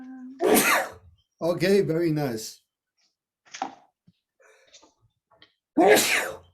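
A loud sneeze bursts out, followed by a voice speaking briefly, scattered faint sounds, and then a second sharp sneeze near the end.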